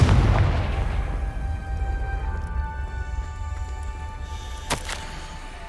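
A Confringo blasting spell exploding in Hogwarts Legacy, a loud booming blast at the start that rumbles and fades away over several seconds, with a sharp crack near the end and no talk.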